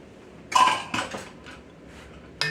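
Sweet potato pie filling mixed in a bowl, heard as a few quick scraping clinks of a utensil against the bowl sides, close and brief, separated by short pauses.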